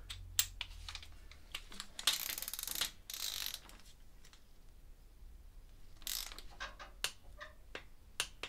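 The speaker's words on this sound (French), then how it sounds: "On sert ça à la clé dynamo" Torque wrench clicking as it tightens the cylinder bolts of a Ducati 600–944 engine to 20 Nm; rapid close ratchet clicks and mechanical ticks come in bursts with brief quiet gaps, no speech.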